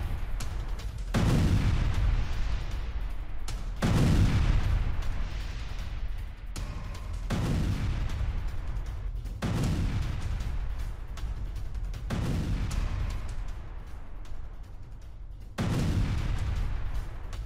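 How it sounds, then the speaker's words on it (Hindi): Heavy booming blasts repeat every few seconds as a US destroyer's missiles strike Houthi launch sites near Hodeidah and Sanaa, each a loud low rumble with a long decaying roar, with no voices heard. "अमेरिकी डिस्ट्रॉयर ने होदेइदा सना में दागी मिसाइलें"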